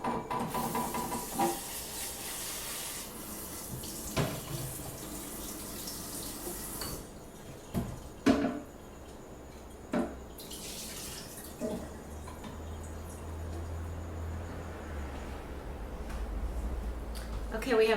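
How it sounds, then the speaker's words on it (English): Tomatoes and zucchini being rinsed under a kitchen tap, with steady running water hissing at low level for a long stretch, broken by a few sharp knocks and clatters. "right now I got to rinse the tomatoes and the zucchini."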